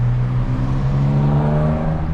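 A turbocharged BMW B58 engine making about 500 wheel horsepower accelerates while cruising, a loud, close, steady droning whir that rises slightly in pitch, with no voices.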